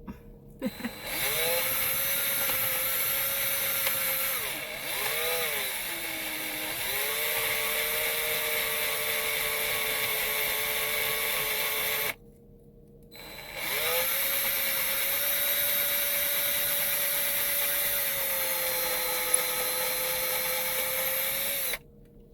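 A power drill whines steadily inside a truck camper build, running in two long sustained bursts with a short stop between them; the motor pitch dips and recovers as it bites.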